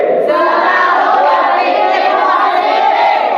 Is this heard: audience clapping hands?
yes